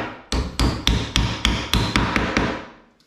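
Eight sharp hammer taps driving pegs into a kitchen worktop, evenly paced about a third of a second apart, close and fairly loud, with no voices.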